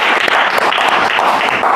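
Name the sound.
congregation clapping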